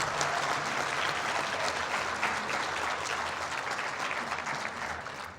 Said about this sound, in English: everyone give Dr. Morales another round of applause